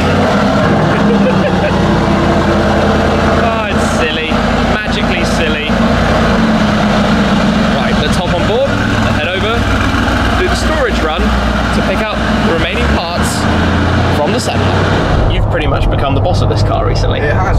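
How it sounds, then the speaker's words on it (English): A Mercedes G63 with an Akrapovic exhaust fires up and roars, with deep rumbling revs and sharp exhaust crackles, loud and close, easing off near the end. "the Akrapovic exhaust on the G63 sounds so good that every single start is one to enjoy"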